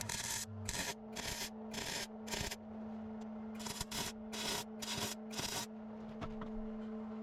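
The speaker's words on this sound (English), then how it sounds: "I'm just going to hold it up there in place and tack it in" A weld-on bung is tack welded onto the exhaust pipe of a 1990 Ford L9000 truck, giving a series of crackling bursts of about half a second each, four in one group and four in another, separated by quiet gaps under a steady background hum.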